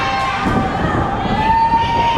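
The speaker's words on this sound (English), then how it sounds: "Ashworth's got this whole crowd behind him here in Buckhead" A wrestling crowd at a small-town show in Buckhead cheers steadily throughout, a dense roar of many voices with shouts rising above it, close and loud.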